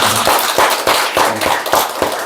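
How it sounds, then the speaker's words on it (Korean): A church congregation gives a round of welcoming applause during a Sunday morning Advent service; many hands clap in a loud, close, fairly rhythmic burst lasting a couple of seconds with no talk over it. "오늘도 잘 왔다고 환영의 박수 한번 더 합시다"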